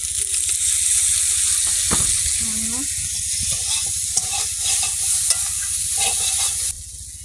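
Food frying in a pan while being stirred, a steady close sizzle with scattered scrapes and knocks, with a faint voice briefly in the background.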